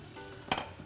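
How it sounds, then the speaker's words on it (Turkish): Onions sautéing in a pan in an Anatolian kitchen, a faint steady sizzle with one quick stir or scrape in the middle, brief and with no voices. "soğanlarımız soteleniyor"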